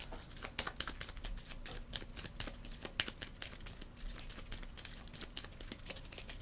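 Soft, quick riffling and papery flicks repeat steadily, like a deck of cards being shuffled close by, quiet with no voices, during a solo Viscounts of the West Kingdom board game.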